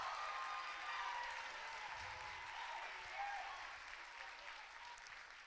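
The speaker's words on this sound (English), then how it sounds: "give another round of applause for these mentors" Applause from an audience at the RaiseRed opening ceremony for program mentors, a steady wash of clapping heard at a distance and fairly faint throughout, slowly tapering off.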